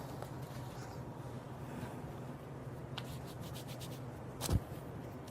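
A wax strip is pulled off skin during body waxing, first with soft, faint rubbing, then one quick sharp ripping burst near the end.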